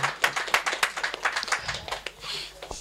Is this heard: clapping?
yes